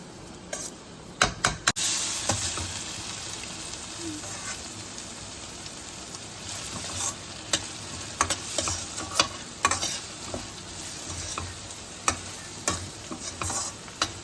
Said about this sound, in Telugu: ఇది ఇంకొంచెం బ్రౌన్ కలర్ వచ్చే వరకు ఫ్రై చేసుకోవాలి.